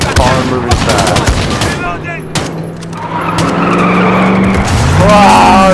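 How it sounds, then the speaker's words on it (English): Loud game audio from Modern Warfare of a car racing past with roaring engine and skidding tires, mixed with bursts of gunfire. "Yes, I hear car moving fast."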